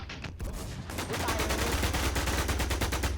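Police open fire in a video game set in Brazil: dense, rapid bursts of gunfire crackle continuously, loud and close, with overlapping shots that sound like a sustained fusillade.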